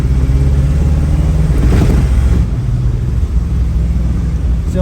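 An International Harvester Scout II on a test drive after a power steering conversion, its engine a loud, steady low rumble that swells briefly around the middle, then settles, with no talking.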